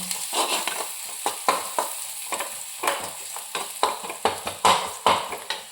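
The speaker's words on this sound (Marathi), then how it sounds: "लाल मिरची आपण टाकतो त्याच्यामध्ये. छान असं भाजून घेऊया." Dried red chillies roast in hot oil for Kolhapuri chicken, giving a close, fairly loud sizzle punctuated by frequent spatula scrapes and knocks against the pan at an irregular pace.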